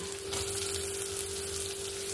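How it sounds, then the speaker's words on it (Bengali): Chopped onions hit hot oil already holding fried ginger, garlic and green chilli for a fish cutlet, giving a loud, steady sizzle that runs throughout with a faint stirring scrape and no voice. "এবার আমি যে কুচনো পেঁয়াজ রেখেছি সেটা দিয়ে দেব"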